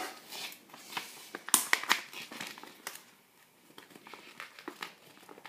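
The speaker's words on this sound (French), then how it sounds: "Donc, on va l'ouvrir. On va ouvrir le paquet." A Pokémon XY booster pack wrapper being torn open, with close crinkling and crackling foil plastic in irregular bursts and one sharp tearing snap, heard alone without speech.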